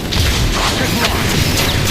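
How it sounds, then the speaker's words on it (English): A rocket launcher fires in Transformers: War for Cybertron, a loud, dense booming blast with crashing rumble that fills the whole moment, with a voice faintly mixed in. "Rocket launch."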